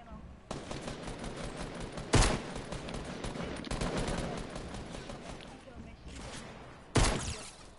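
Gunfire erupts during a Fortnite fight: rapid bursts of shots with two sharp, louder blasts standing out, mixed with players talking over the action.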